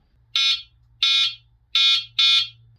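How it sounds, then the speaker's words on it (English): Four sharp electronic horn beeps from a 2023 Lankeleisi RV800 Plus e-bike, the last two close together, loud and shrill over a faint hum. "a very loud horn"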